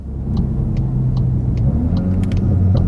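A Volkswagen MK8 GTI with a Stage 1 torque tune drives around town, a loud steady low engine rumble and road noise heard from inside the car, with faint ticking above.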